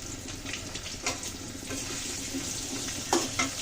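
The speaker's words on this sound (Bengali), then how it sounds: "আলুটা একটু ভেজে নিই" Potato pieces fry in a pan for a Bengali egg bhuna with potatoes, a steady close sizzle with soft stirring scrapes and a few brief clinks.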